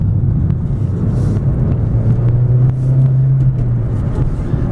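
2006 Honda Civic EX with a five-speed manual accelerating on a test drive, a steady droning engine hum heard from inside the cabin that climbs slightly in pitch with road noise underneath.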